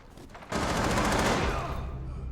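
Sustained burst of automatic gunfire in a first-person shooter video game, loud and dense, kicking in abruptly after a half-second of quieter background, with rapid rattling shots continuing to the end and no talk over it.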